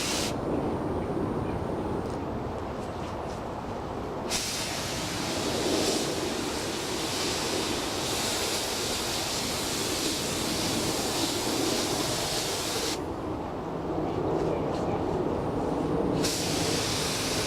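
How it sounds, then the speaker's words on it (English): Strong wind blowing outdoors during spray painting of a motorcycle restoration, a loud steady roaring rush of gusting air with broad hiss throughout and no clear pauses. "You notice the wind is blowing like crazy here."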